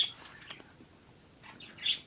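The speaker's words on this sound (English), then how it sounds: "I hear chirping, chortling, and singing over there" Birds chirping and singing outdoors, with faint, distant tweets and calls coming in scattered bursts and a louder call near the end, over quiet background noise.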